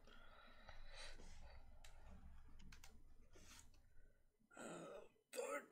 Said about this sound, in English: I'm burping and coughing and burping.